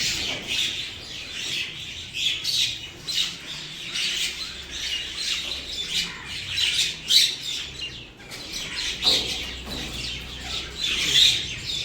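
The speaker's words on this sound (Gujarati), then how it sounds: "પક્ષીઓ કેટલા આવી ગયા છે." A crowd of birds gathered outside a home in the morning, with chickens clucking among them, fills the air with constant chirps, tweets and squawks. The calls are close and lively, and no one speaks.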